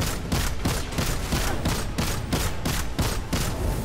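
Rapid primary-weapon fire in the video game Destiny, during a solo Nightfall strike in the Inverted Spire: a steady run of about twenty sharp, evenly spaced shots, loud and close, with no speech.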